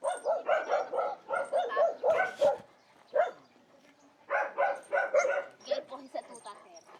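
Puppies waiting to be fed bark and yip in rapid overlapping bursts, loud and close, with a short lull before the chorus resumes while people talk around them.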